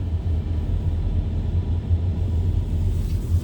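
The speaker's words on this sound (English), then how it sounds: "their reefer in their truck is loud." A truck's refrigeration unit runs at a truck stop with a freeway nearby, giving a loud, steady low droning rumble that continues throughout with no break.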